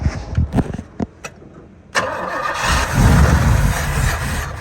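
A barn-find Pontiac GTO engine cranks in short, uneven bursts, then catches and roars into a loud, rough run, close by and alone.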